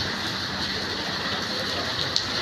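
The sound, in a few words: heavy rain falling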